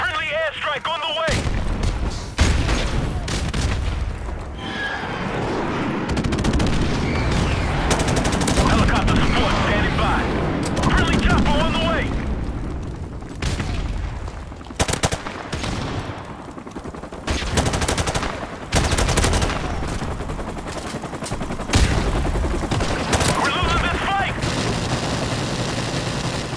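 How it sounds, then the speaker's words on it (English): An airstrike in Call of Duty: Modern Warfare Remastered lands as a heavy, sustained barrage of booming blasts and rumbling impacts, mixed with rapid machine-gun bursts and scattered gunfire, and voices call out over the combat. "Friendly airstrike on the way!"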